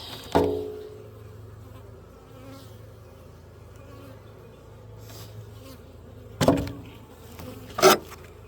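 Honeybees droning around an open hive during a split, a faint steady buzz with a few louder knocks and handling bumps from working the hive boxes.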